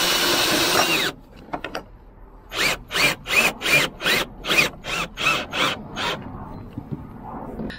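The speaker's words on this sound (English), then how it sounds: "I'm going to try the self-tapper first, because that'll be a better fit if it does work that way" A power drill drives a self-tapping screw into a metal roof rack bracket on a Fiat Ducato van, a short burst then about eight rhythmic whirring pulses close up, each a second or less, with brief pauses between.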